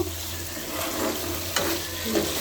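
Vegetable patoori, spiny gourd, fries in oil in a pan, a low steady sizzle with a couple of brief clinks and scrapes, close by and without talk.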